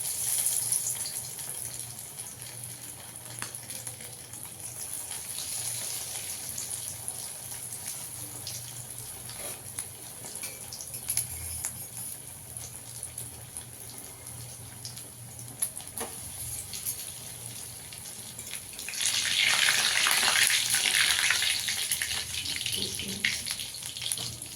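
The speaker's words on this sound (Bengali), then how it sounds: "এই যে এবার ভেজে দেখিয়ে দিচ্ছি। এবার ভেজে নেব।" Food sizzles steadily in hot oil, a dense continuous crackle and hiss that swells louder near the end as more is added to the pan.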